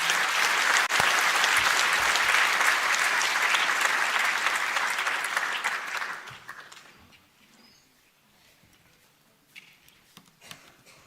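A conference audience at a national space conference opening session applauds loudly and steadily for about six seconds, then the clapping fades into a quiet hall with a few scattered claps and faint noises.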